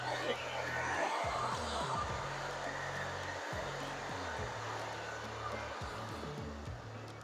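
A handheld hair dryer blows a steady, loud whooshing roar while drying a short pixie cut. Low pulsing rumbles and brief interruptions run under it throughout.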